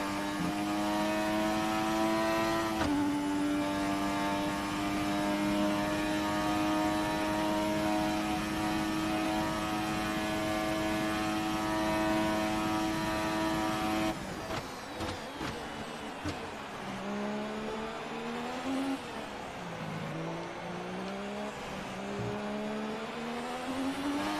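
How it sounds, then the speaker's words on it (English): A 1988 McLaren Formula 1 car engine in a video game: a loud, high-revving racing engine drones steadily with a sharp shift around the middle, then rises and falls through gear changes, close and continuous. "Love the sound of the engines in these."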